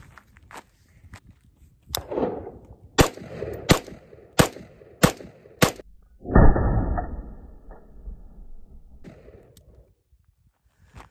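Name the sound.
five rifle shots with GFHC muzzle device, 10.5-inch barrel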